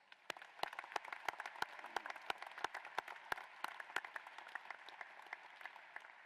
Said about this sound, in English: How about we give them a round of applause?